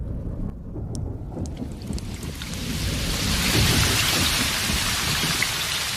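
Rain in an animated cartoon, the Hindi-dubbed Ninja Boy Rantaro, starts light and then swells into a heavy, steady downpour, with a low rumble of thunder underneath.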